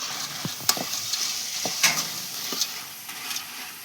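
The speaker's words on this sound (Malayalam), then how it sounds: "ചക്ക ഈ വറുത്ത് ഏകദേശം ആകാറാകുമ്പോഴേക്കും ഈ ഒരു സൗണ്ട് ഇങ്ങനെ കേക്ക് തുടങ്ങി" Jackfruit chips fry in hot oil with a steady close hiss, punctuated by soft stirring scrapes and occasional brighter crackles.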